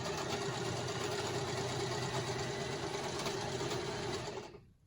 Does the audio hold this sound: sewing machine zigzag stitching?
yes